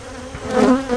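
Honey bees buzzing loudly and close during a hive inspection after mite treatment, a brief dense drone that swells toward the end.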